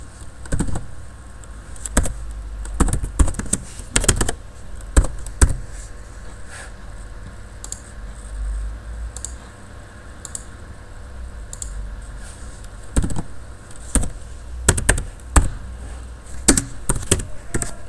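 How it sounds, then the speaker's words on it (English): Computer keyboard typed in quick, uneven bursts of sharp clicks separated by pauses, close and fairly clear over a low background hum, with no talking. "I would have to type in accessory"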